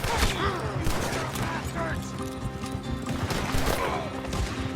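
Gunfire in the video game Red Dead Redemption 2 rattles in dense, continuous volleys alongside hoofbeats and shouting voices during a chaotic shootout.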